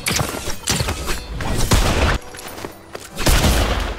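Rapid gunfire bursts from a pirate-themed sea video game, loud and close, with dense crackling volleys broken by brief pauses over about four seconds.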